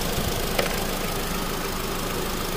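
A 2007 Honda Accord LX 2.4L engine idles steadily with the AC compressor engaged, giving a continuous close, even hum with a faint knocking texture and a brief click near the start.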